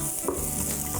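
Onion pieces broken up and stirred in a pan while cooking for an eggplant dish, with a steady close sizzle and a brief scraping stir, no talk.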